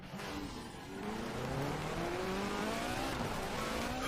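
A Peugeot 205 Forza Edition in the racing game Forza Horizon 4, its engine note climbing steadily through rising revs, loud and continuous with a whine that sweeps upward as it accelerates, no talk.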